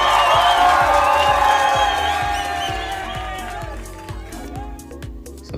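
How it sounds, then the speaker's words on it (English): A canned applause and cheering sound effect plays as a loud, dense crowd roar with clapping and whoops, slowly fading over several seconds while a steady rhythmic beat continues underneath. "We truly appreciate all the manufactured applause."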